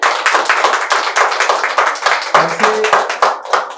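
An open-mic audience claps loudly for a singer in a close, rhythmic burst of hands. A few brief voice tones sound faintly beneath it.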